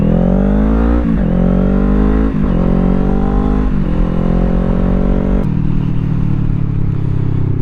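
A 2025 Kawasaki Ninja 500 motorcycle revs loudly and steadily close by, its engine note rising and falling in several surges before settling, with crackling exhaust pops; no one talks.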